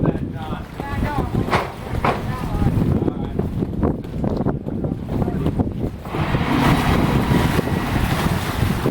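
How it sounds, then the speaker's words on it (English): A boat's diesel engine and bow thruster work against gusty wind while docking at a boat show. A low steady rumble sits under heavy wind buffeting on the microphone, and people talk over it. "So he'll power up with the diesel and maybe tweak it with the bow thruster."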